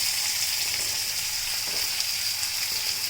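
Finely chopped onion, ginger, green chili and garlic sizzle in a hot pan, giving a constant, close, bright frying hiss with faint stirring underneath and no voices.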